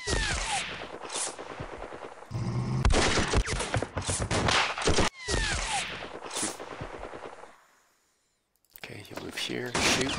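Bursts of rapid gunfire and single shots in a World War II Philippines war game, loud and close in clustered volleys with brief gaps and a moment of silence, heavy mechanical clatter between shots.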